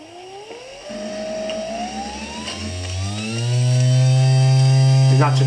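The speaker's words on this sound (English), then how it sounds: "that's a 12-volt motor running on 18 volts there" A 12-volt car wiper motor overdriven on 18 volts from a speed controller, whining as it spins up with rising pitch, then holding a loud, steady high-speed hum.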